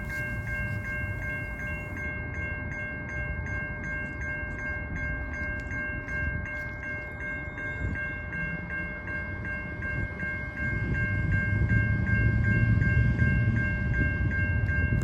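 A Norfolk Southern freight train led by two AC44C6M locomotives and a D9-40CW rolls past, a continuous rumble of engines and cars with steady high tonal whine, growing louder near the end.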